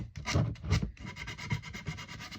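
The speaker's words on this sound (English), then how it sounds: "Now I'm going to take some sandpaper" Rhythmic scratchy rubbing of sandpaper on a hickory axe handle, a series of quick back-and-forth strokes close to the microphone.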